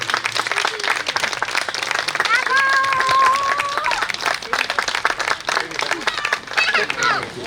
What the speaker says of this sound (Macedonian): Еден аплауз за Беира секако